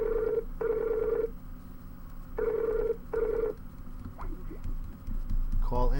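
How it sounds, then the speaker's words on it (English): A telephone rings in two pairs of trilling bursts, a short pause between them, over faint background noise before a voice briefly begins. "The phone is ringing."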